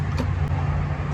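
A 1977 Ford F150 engine, fire-damaged and with stuck valves, cranks over on the starter in a steady low droning churn, loud and close throughout.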